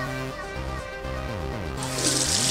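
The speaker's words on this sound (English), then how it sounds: "Now we're going to wash the Flawless HD brush." A dense Flawless HD makeup brush is rinsed under a running tap, with steady water flow and shifting pipe-like tones that swell into a brighter, hissing gush near the end.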